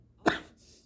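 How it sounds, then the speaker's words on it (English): A single sharp cough close to the mic, followed by quiet room tone. "Sorry if I'm coughing."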